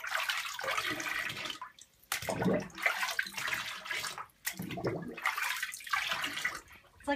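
Water sloshes and splashes in a bathtub as a baby rinses herself off, with irregular bursts of splashing and running water close by and no talk.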